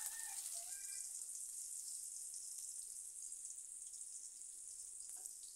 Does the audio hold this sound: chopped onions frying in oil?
yes